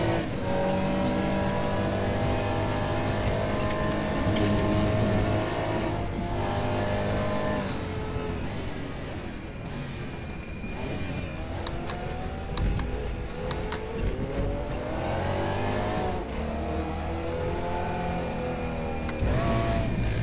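Race car engines drone and shift pitch in RaceRoom Racing Experience, a Porsche 911 GT3 R or Cayman GT4 Clubsport running steadily with rising and falling revs and faint ticking, a continuous loud mechanical whine with no talk.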